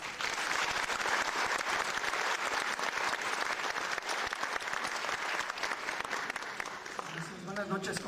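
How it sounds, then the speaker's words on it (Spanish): Sustained, steady applause from an audience at a union tribute event in Mexico, dense clapping filling the room for several seconds before a voice begins at the end. "Lo recibimos con un fuerte aplauso."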